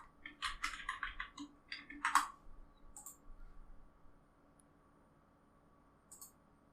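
Quick clicks of typing on a computer keyboard come in a short run of close, light taps with a few louder keystrokes, then quiet and a single faint tap near the end.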